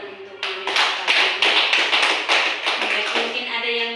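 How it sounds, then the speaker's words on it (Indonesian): A small group of teachers gives a round of applause indoors, a close burst of quick, rhythmic clapping that starts abruptly and tapers slightly toward the end. "Mungkin kita beri tepuk tangan untuk Guru."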